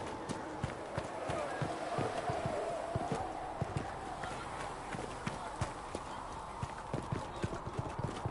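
Horses gallop steadily in a video game with rapid, rhythmic hoofbeats over a low ambient hum, the sound continuous and moderately loud throughout.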